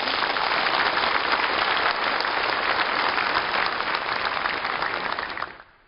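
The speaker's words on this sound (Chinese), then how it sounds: "让我们以热烈的掌声表示衷心的感谢" Sustained loud applause from a large hall audience at the closing session of the Fourth Session of the 11th CPPCC National Committee in 2011, dense and even for several seconds before fading out abruptly.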